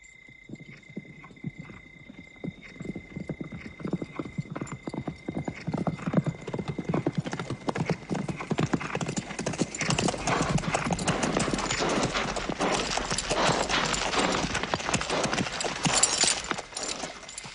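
Hundreds of horses from an approaching army fill the scene with dense, continuous hoofbeats that swell louder over time. Occasional whinnies and shouting voices rise out of the massed clatter.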